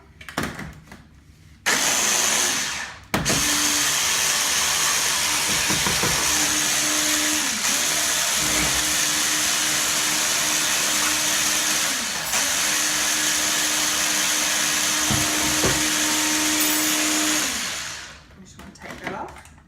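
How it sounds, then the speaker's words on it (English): A blender whirs through chocolate crepe batter, starting after a short pause, then running in a loud, sustained whine with slight pitch dips for over fifteen seconds before winding down. "Check that everything's blending right."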